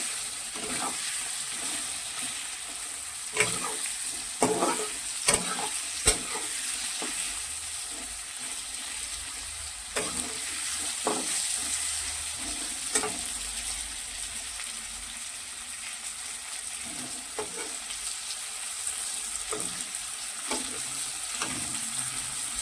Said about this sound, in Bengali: আলুগুলি প্রায় ভাজা হয়ে গেছে